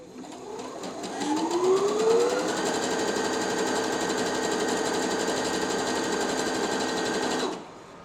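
A Brother NV 10 sewing machine runs a 3-step zigzag stitch, its motor whirring up in pitch and then holding a steady, loud, close mechanical drone with rapid needle chatter before stopping abruptly.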